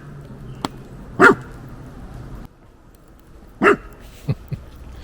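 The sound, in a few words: dog barking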